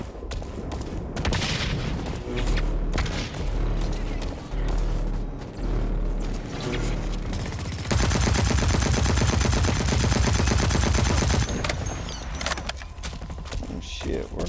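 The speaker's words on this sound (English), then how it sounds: "somebody shooting from behind" Rapid automatic gunfire in the video game Blacklight, dense bursts that peak in a long sustained volley partway through, with game noise and speech around it.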